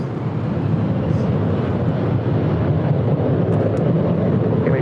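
An airplane at LAX airport, a loud, steady low roar of engines and rushing air holding constant throughout with no voices.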